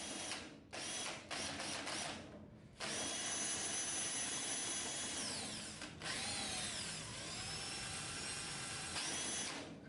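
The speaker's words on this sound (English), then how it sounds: "So we're making electricity from this permanent magnet motor" A permanent magnet motor spun by hand as a generator whirs steadily with a mechanical, ratcheting buzz. The noise breaks off briefly a few times before starting again at the same level.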